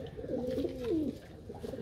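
A pigeon coos once, a soft rolling low call close by, over a dull background hum.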